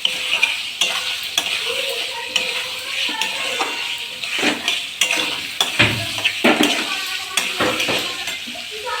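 Potatoes are stirred into frying spice mix for egg biryani, with loud, repeated scraping and clinking of a spoon against the pot over a continuous sizzle, the strokes coming in an irregular rhythm.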